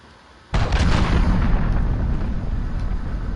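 A loud cruise missile strike explodes in Call of Duty: Modern Warfare, with a sudden heavy boom that gives way to a sustained rumbling roar and crackling debris that fades only slightly.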